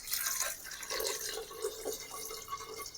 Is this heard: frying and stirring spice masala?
no